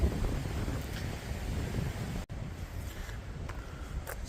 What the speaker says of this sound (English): as you can hear, still windy.